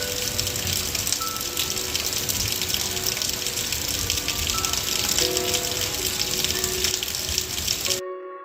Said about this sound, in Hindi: छत में वहाँ पर पानी जमा हो गया है और उसके ऊपर जब बारिश गिर रही है